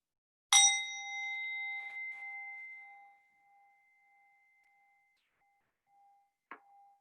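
A single bell struck once during a classroom mindfulness pause, ringing clearly with a bright attack and a long, steady sustain that slowly fades over several seconds, followed by a faint, brief second tap near the end.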